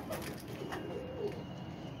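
A pigeon in a loft coos softly, a faint low burbling call under steady background hiss.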